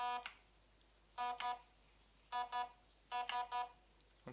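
An LDT-X split gearbox controller sounds clear electronic tones in short bursts. A single beep is followed by grouped double and triple beeps at a steady pace, close and fairly quiet, with no talking over them.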